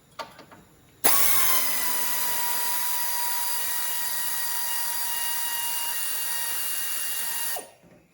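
A power tool whirs steadily for several seconds while backing bolts out of a brace on a cammed C4 Corvette, starting abruptly after a few faint clicks and winding down at the end, loud and close with no talking.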